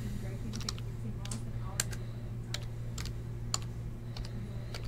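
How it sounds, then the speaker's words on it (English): Light tapping on a computer keyboard, a scatter of quick individual key clicks over a steady low hum, close and fairly soft. "So let me type that in."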